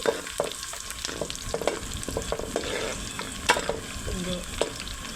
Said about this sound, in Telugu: జీలకర్ర ఆవాలు కరేపాకు అన్నీ ఒకేసారి వేసుకొని కొంచెం ఫ్రై అవనివ్వాలి